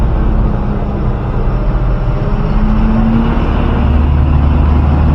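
A car climbs the hairpin bends of the Sathyamangalam ghat road, its engine a steady, loud, close drone with constant road rumble throughout and no pauses.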